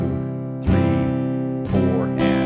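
Steady strummed guitar chords ring close and full, with a few sharp, bright strum attacks including a quick upstroke at the end of a bar, and no voice over it.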